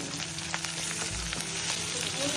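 Spices, onion and curry leaves sizzling in hot oil with ghee for a tempering, a dense steady crackle close up, with light stirring scrapes and a soft low thump partway through.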